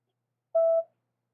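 A single short telephone signal tone, a clean steady beep of about a third of a second, sounds alone against silence during a phone call.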